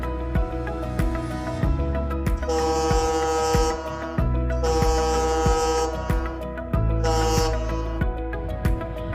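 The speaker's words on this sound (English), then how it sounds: "Sound horn for overtaking in starboard side." A ship's horn sounds two long blasts followed by a shorter one, the signal for overtaking on the starboard side, layered over a steady, rhythmic musical backing.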